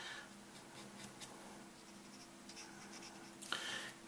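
A Tombow brush marker drawn across paper, giving faint soft scratchy strokes in a quiet room, with a slightly louder swipe near the end.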